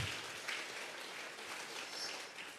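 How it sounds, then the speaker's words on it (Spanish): A church congregation claps together in a steady, dense wash of applause that fills the whole stretch without pause, with no voices standing out above it. "vamos a regalarle ofrenda de palmas al Dios de la gloria"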